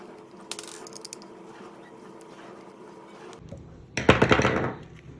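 Screws are backed out of a hair clipper blade with a screwdriver to fit an Elite mod bracket, giving faint mechanical clicks and a closer burst of scraping, rattling ratchet-like sounds near the end.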